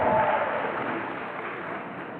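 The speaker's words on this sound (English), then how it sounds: "Come on, let's give him a round of applause" Audience applause fills a hall at the University of Benin Faculty of Pharmacy oath-taking and induction ceremony: a dense, steady wash of many hands clapping, loudest at the start and easing slightly as it carries on.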